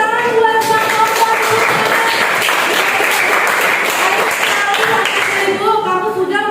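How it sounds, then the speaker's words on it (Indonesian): A class applauds a student after a group presentation, with loud, continuous clapping running throughout and talking faintly audible beneath it. "tepuk tangan buat Bang Kompor"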